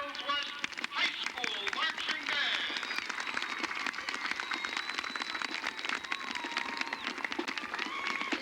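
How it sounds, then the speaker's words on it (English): A crowd applauds for the Niles West High School Marching Band at a 1985 marching band competition in Whitewater, Wisconsin, a dense, steady patter of clapping with voices mixed in. "let's have a big MBA round of applause for the Niles West High School Marching Band"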